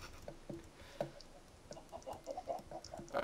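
Chickens in a Minecraft-style pixelated survival game give a handful of short, soft clucks and squawks at a middling distance, spaced irregularly through the moment with faint game ambience underneath.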